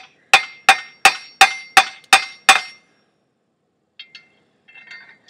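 Seven sharp, ringing metallic taps of a hammer on the end of hot forged metal while making a fire poker, in a steady rhythm, close and loud, followed by silence and a few faint clinks.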